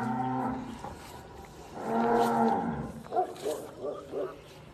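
A dairy cow on a farm gives several moos, a long low drawn-out call followed by shorter bellows, loud and close with some background noise.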